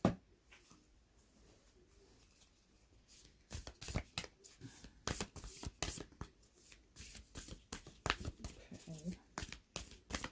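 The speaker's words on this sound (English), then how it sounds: "shuffle some cards and see what we get" Cards riffled and shuffled in a rapid flurry of crisp, papery bursts, starting quietly and growing busier and louder, close to the listener.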